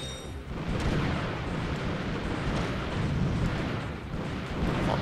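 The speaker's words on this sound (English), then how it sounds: "Explosions!" Explosions in the Ratchet & Clank game: a steady, loud roar of overlapping blasts and rumbling booms that continues with little pause and no talk.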